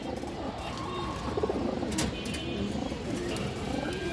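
Cooing from a loft of pigeons, including an old-breed female Muslidom pigeon, a steady layered murmur of soft coos with chirps over continuous low background noise.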